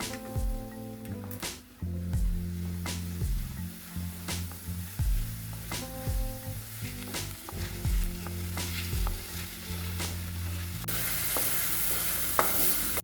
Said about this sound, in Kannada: ಟಮಾಟೆ ಹಾಕೊಂಡು ಎಲ್ಲ ಫ್ರೈ ಮಾಡ್ಕೊತೀನಿ